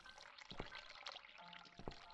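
Quiet running water in The Cat Lady video game, a soft continuous trickle with a few brief splashy spikes, faint and steady with no voices.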